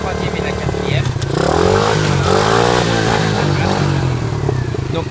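A dirt bike's engine revs hard and climbs in pitch through third and fourth gear, with a clear drop at each shift and chain clatter underneath, heard up close with someone talking over it.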